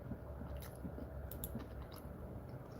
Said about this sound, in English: Sorry about the crunching, people.